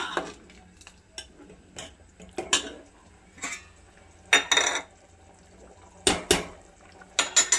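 Roasted wheat semolina is stirred into boiling water in a pot, with intermittent scraping clinks of a spoon against the metal and soft watery stirring between them. The sounds come in irregular bursts, close and fairly quiet.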